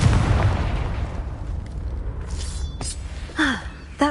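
A fiery Confringo blast spell from the Hogwarts Legacy video game erupts loudly at the start and rumbles into a decaying roar, followed by a brief gasp and a few small pops near the end.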